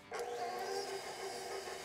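Electric mixer whipping butter and sugar into a frothy cake batter for a smoked pound cake, a steady close whirring motor hum that starts abruptly and runs continuously without a break.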